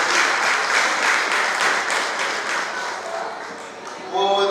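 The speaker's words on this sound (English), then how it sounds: "A round of applause again" Audience clapping at a Yoruba Day cultural event, a full round of applause that gradually thins out before a voice begins speaking at the end.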